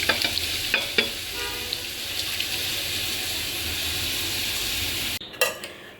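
Lentils fry and get stirred in a pan, a steady close sizzle with scraping stir strokes near the start, then a sharp clatter and splash near the end, with no talking.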